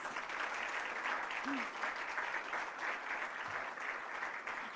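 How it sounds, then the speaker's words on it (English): An audience applauds the mayor at a city address: a dense, even wash of clapping from a large room, moderately distant and steady throughout. "can I get another round of applause for Mayor Knight, please?"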